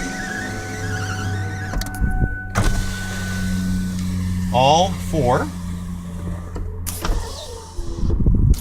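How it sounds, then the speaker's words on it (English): Power windows on a 2002 Ford Taurus whir up and down in several motor runs, each ending in a thud as the glass seats, close and loud, with a brief spoken remark over the car's idle. "power windows, and they go up just as easily"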